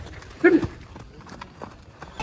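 A mare walks on the way to a temple fair, her hooves giving a few light clip-clop knocks with one stronger step near the start. Faint background murmur runs underneath.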